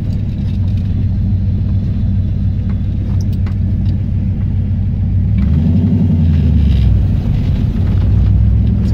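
Ford 302 V8 car fitted with a lawn mower carburetor pulls away from a stop, a deep steady engine rumble heard from inside that swells as it accelerates midway, loud and continuous, no talking.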